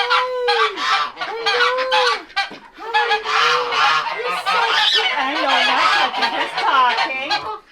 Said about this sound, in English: Sebastian's our most outgoing goose